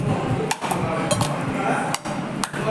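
Boiled potatoes mashed in a pot for a potato podimas dish: a few dull thuds and utensil knocks against the vessel at uneven intervals, close by over a steady background hiss.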